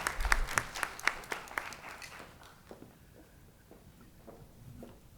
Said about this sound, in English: Let's give him a warm hand of applause.